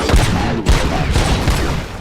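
Gunfire in the RoboCop: Rogue City video game: loud, close bursts of rapid shots and booms crowding together over two seconds, with no talk.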